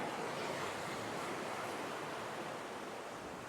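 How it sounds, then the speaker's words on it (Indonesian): Big ocean waves roar as a dense, continuous wash of surf noise, loud and unbroken throughout with no talking. "Ini ada ombak gede banget"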